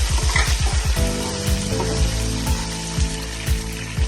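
Chopped green chilies hit frying onions in hot oil, giving a loud, steady sizzle with rhythmic stirring and scraping taps against the pan throughout, and no voices.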